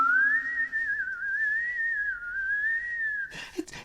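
A single long wavering whistle rises and drifts as an eerie effect in a read-aloud horror story, then cuts off into brief scuffling noise.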